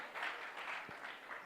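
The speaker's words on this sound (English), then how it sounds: "Let's clap for Kabale University." Audience applause for a university team at a nursing and midwifery quiz competition, a steady, moderately faint patter of many hands lasting about a second and a half.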